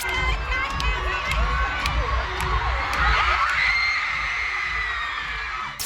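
A concert crowd cheers and screams continuously as a performer bursts onto the stage, a loud, dense roar with high shouts on top and no break throughout.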